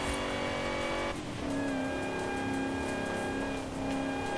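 A supercharged Ford Lightning pickup in the racing game Forza Horizon 5 sends out a loud, sustained engine howl with supercharger whine, a shift break around one second, then a climbing drone.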